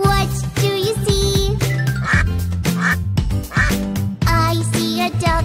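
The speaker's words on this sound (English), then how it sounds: "I see a duck. Quack, quack, quack." Duck quacks voiced within a bouncy children's song, set against steady music with sung melody and backing instruments at a close, even loudness throughout.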